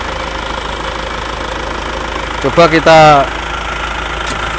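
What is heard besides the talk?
Isuzu Panther diesel engine starting and idling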